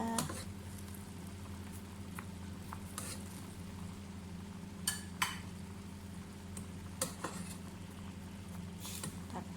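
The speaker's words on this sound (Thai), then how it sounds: "ตักฟองออก น้ำแกงจะได้ใสนะคะ" A ladle skims foam off a pot of boiling Thai curry soup, giving soft, scattered clinks and scrapes over a faint, steady bubbling hum.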